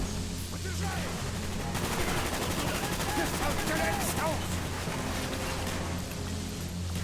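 Sustained automatic gunfire in Call of Duty: Black Ops fills the whole stretch as a dense, continuous roar of shots in a combat scene, with faint voices and game sounds mixed beneath.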